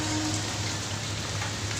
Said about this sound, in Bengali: বৃষ্টি হয়েই চলেছে, থামার নাম নেই।